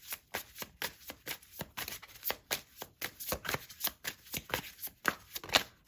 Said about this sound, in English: We're going to pull some more cards as well,